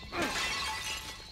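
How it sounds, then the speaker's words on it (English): Porcelain pots smash in the horror game The Evil Within, a single sharp ceramic shatter with scattering debris that fades within about a second. "He just smashed porcelain pots, no problem."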